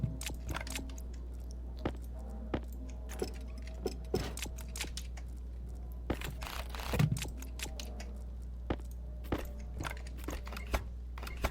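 A part being wrenched in Stationeers: a run of sharp, irregular metallic clicks and ratchet-like taps over a steady low hum, with no voices.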